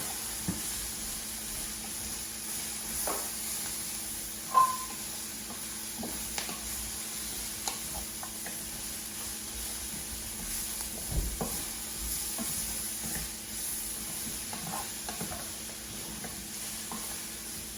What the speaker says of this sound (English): Now we'll braise the cabbage and the carrots.